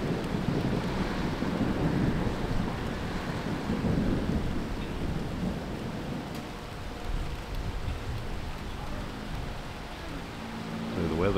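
Wind gusting through a thunderstorm near a tower with a weather station and radio antennas, a steady broad roar with rumbling thunder and rain mixed in, continuous and fairly loud throughout.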